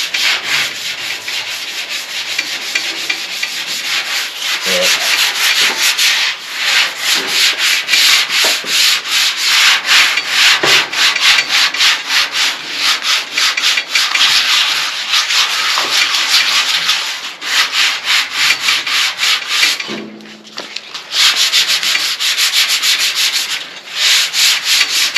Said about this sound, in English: then we'll continue our sanding